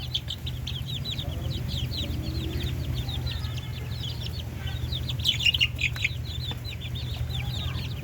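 A flock of month-old darag native chickens in a farm pen chirps and clucks in quick, overlapping peeps over a steady low hum, with no talk.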